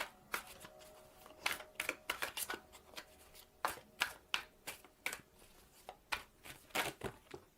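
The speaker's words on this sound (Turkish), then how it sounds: "Kart döndü. Alıyorum dönen kartı." Tarot cards are shuffled and handled at a reading, giving a series of sharp, crisp flicks and snaps spaced irregularly throughout, close and fairly quiet with no voices.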